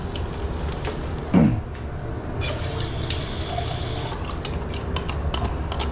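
A small amount of water poured into a metal can, a brief splashy trickle with a steadier running-water hiss in the middle, close up and alone.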